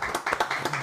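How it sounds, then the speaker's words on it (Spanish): Audience clapping greets a political guest on a talk program, a brief burst of several hands with quick uneven claps, fairly close and loud. "Fuerte aplauso."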